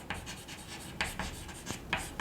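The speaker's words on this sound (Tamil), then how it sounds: "I am going to draw a diameter POR." Pen or pencil drawing a diameter line across a circle for a geometry construction, making soft scratchy strokes in a quick irregular rhythm, close and quiet.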